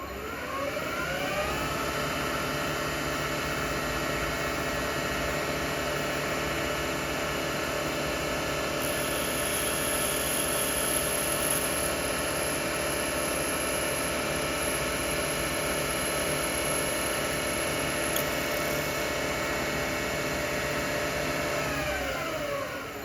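Steady, continuous whine of a drill boring through a fitting with a number 31 bit, held at an even pitch for over twenty seconds with no talk.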